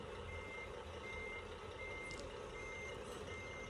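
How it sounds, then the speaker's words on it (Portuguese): Steady reversing beeps from a Scania truck backing up in Scania Truck Simulator, a game, sounding over a constant diesel engine drone throughout, with no talking. "É só dar uma marcha atrás aqui"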